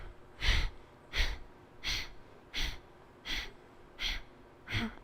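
Seven evenly spaced breath strokes puff out in a steady rhythm, each a close, breathy burst separated by quiet pauses, during a guided breathing exercise.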